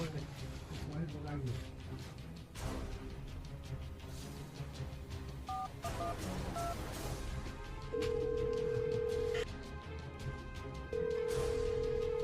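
A telephone is dialed, with a few short keypad beeps followed by two long, steady tones that may be ringing, while people talk nearby throughout.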